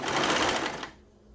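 A serger sewing machine stitching fabric along a pattern line, a fast loud rhythmic whir of needle strokes for about a second that then stops abruptly.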